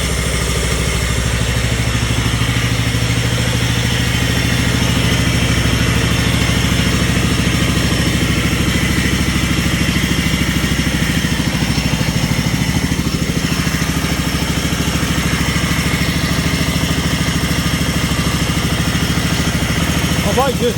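A Mountfield 1740H hydro ride-on mower's petrol engine runs steadily at a close, loud idle, a constant mid-pitched drone with a faint mechanical clatter and speech partly over it.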